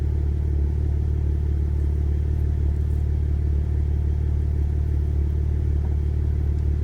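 A RAM 1500 Hurricane fitted with a Flowmaster Signature Series catback exhaust idles steadily at warm idle, giving a low, even, continuous rumble with no revving and no one talking.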